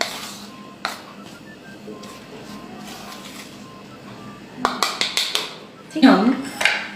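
Bread and flour mixed in a bowl in a home kitchen, heard as light scraping and clinking that grows into a burst of sharp utensil knocks, with a brief voice near the end.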